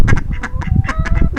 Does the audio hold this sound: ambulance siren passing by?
no